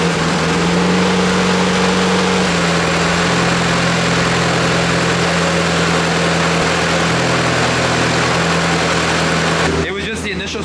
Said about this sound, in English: Try and crank it again.